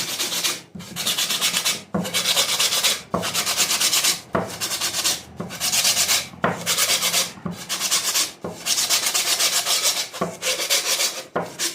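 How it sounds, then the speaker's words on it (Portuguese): Rhythmic, scratchy rasping strokes of sandpaper rubbing wood by hand, about ten even back-and-forth passes, close and steady with no voices. "E ela dá de lixar mais ou menos muitas formas dessa aqui. Então, lixa aqui"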